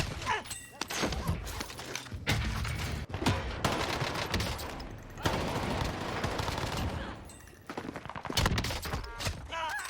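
Heavy gunfire in the Call of Duty: Warzone video game, with dense rapid bursts and automatic fire crackling almost continuously, loud and close, broken by brief gaps.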